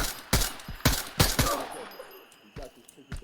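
Bursts of AK-74M rifle fire crack out in a video game quarry run: several sharp, loud shots in quick irregular succession, then a pause and two more distant shots, with no voice heard.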